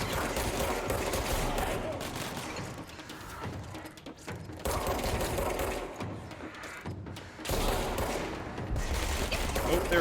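Rapid bursts of gunfire in the video game Control, loud and near, coming in three long dense volleys with brief lulls between them.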